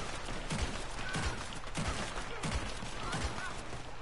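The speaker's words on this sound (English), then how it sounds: "Oh, I'm getting shot at." Rapid gunfire in a shootout in the Red Dead Online video game, a steady stream of overlapping shots and low thuds that continue throughout without a pause.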